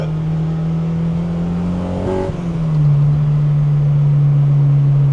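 A K-swapped Honda EK1 with individual throttle bodies revs hard as VTEC engages, a loud steady engine tone that briefly dips and shifts mid-clip before climbing back to a sustained high-rpm howl, with no talk over it.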